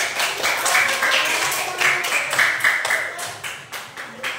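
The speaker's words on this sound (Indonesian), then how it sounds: "Tepuk tangan buat Jian." A primary classroom claps for a student, a lively burst of many small hands clapping in rough rhythm that continues for several seconds.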